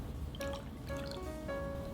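Water poured into a bowl of stir-fry sauce mix for Kung Pao beef, a faint liquid trickle and dripping with a few soft drips over a low background hum, no talking.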